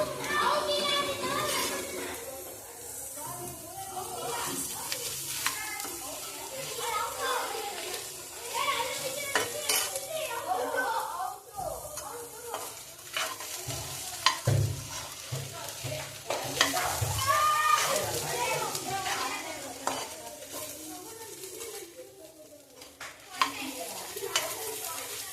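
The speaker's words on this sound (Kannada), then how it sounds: "ಇದು ಒಂಚೂರು ಫ್ರೈ ಆಗ್ತಾ ಇರಲಿ." Coriander seeds are stirred and fried in a pan for country chicken sambar, giving a steady sizzle with scraping and clinking utensil sounds. Someone talks over it, and children's voices are audible in the background.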